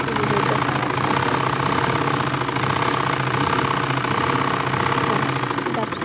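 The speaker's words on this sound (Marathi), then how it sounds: "बघा दाब शिलाई मारून घेत आहे." A sewing machine runs a top stitch along a puffed sleeve with a continuous loud, close mechanical whir and rattle, and a voice talks over it.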